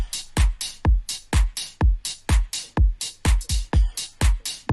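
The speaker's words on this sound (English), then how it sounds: "And with the whole drum loop and with the kick," A full programmed drum loop with a deep kick and bright layered claps, driving a steady, punchy groove of tightly spaced hits at a quick tempo, loud and upfront with no voices.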